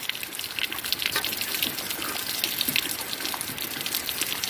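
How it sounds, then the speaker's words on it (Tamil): Water pouring and splashing steadily from soaked chana dal lentils, a continuous gushing rush like liquid being drained off through a strainer, close and fairly loud. "இப்போ நல்லா வடிகட்டிக்குவோம். தண்ணி நல்லா வடிச்சுவோம்."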